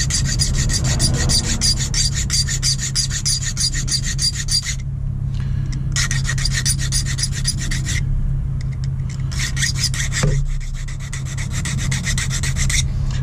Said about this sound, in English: So this is called an impressioning file.